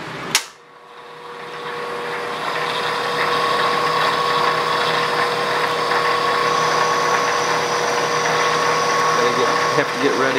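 A metal lathe cutting threads, run without lubricant: a sharp click, then the machine spins up into a steady mechanical whine and rumble that holds to the end, with a small knock near the close.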